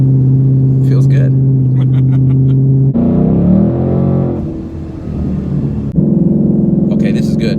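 Ford Mustang GT, 2018-2020, with a Vortech centrifugal supercharger, heard from inside while driving: a loud, steady engine drone with a rising rev partway through, then a dip and a return to a strong cruising hum.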